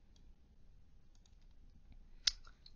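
Mouse clicking and dragging in 3ds Max: faint scattered ticks build to one sharp, close click near the end, in a quiet room with no talking.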